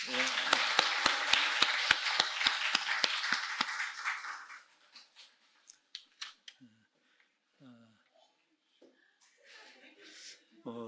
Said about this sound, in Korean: 한 번 더 박수해 줍시다.